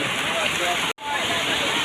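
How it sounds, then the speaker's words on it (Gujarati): Heavy monsoon rain pours down in a loud, continuous broadband wash that breaks off for a split second midway before resuming just as dense. "વરસાદ આવી ગયો છે"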